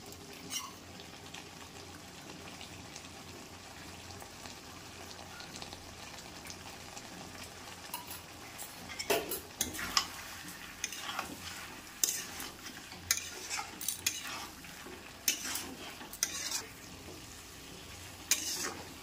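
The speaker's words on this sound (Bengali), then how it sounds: "মশলাটা মিশিয়ে আমি এখানে মাংসটাকে একটু ভালো করে কষিয়ে নেব।" Chicken with prepared kadai masala frying in a kadai, a soft sizzle that turns busier partway through as a spoon stirs and scrapes the pan in irregular clicks and knocks.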